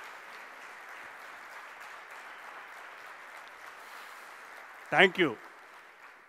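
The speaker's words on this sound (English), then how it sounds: "Can you have a big round of energetic clap?" A large seminar audience at an entrepreneurship talk gives a steady round of clapping that fills the room evenly, while a voice briefly speaks over it near the end.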